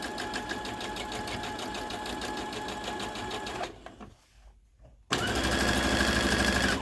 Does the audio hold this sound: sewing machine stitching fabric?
yes